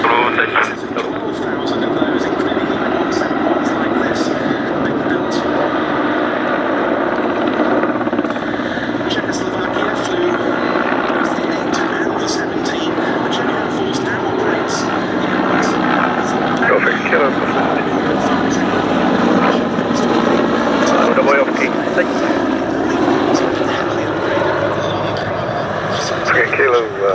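A Mil Mi-171 helicopter with Klimov turboshaft engines runs steadily at an air show, its broad, continuous roar and rotor thrum filling the whole stretch, with a commentator talking over it.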